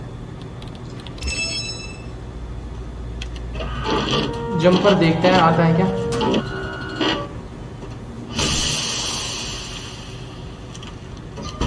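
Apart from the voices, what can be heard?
3D printer printing a jumper, Watch Dogs 2 video game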